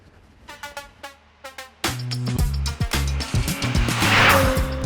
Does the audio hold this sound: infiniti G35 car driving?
yes